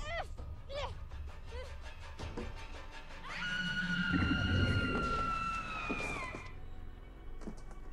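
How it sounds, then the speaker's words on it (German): A long, high wavering scream from the video game Murdered: Soul Suspect rises over rumbling game noise and holds for about three seconds before cutting off, with brief talk before it. "Der Schrei."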